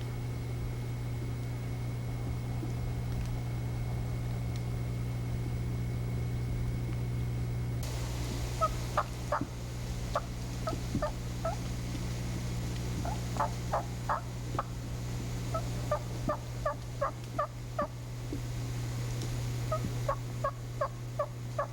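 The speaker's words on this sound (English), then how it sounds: "the soft yelp or tree yelp can be given at any time of the day" Wild turkey hen giving soft tree yelps, short clustered series of faint, evenly spaced notes repeating over a steady low hum, starting partway through after a stretch of near silence.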